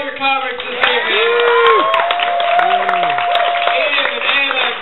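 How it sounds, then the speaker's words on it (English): Audience applause for the comedians at a comedy night, loud and steady clapping from a crowd with a voice talking over it throughout. "One more round of applause for all your comics this evening."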